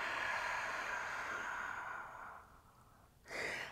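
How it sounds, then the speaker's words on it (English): A long, steady exhale during a yoga stretch for lower back and tight hips, a soft airy breath fading out over a few seconds and followed by a short fresh breath, close and alone without talk. "So inhale and exhale out"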